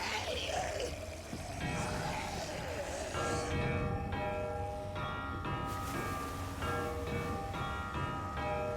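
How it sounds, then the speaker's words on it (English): Bell in The Walking Dead: The Final Season being struck rather than swung, giving repeated clanging hits from about three seconds on, each ringing out with a long tonal decay over a busy game background. "Is he just hitting the bell instead of ringing it?"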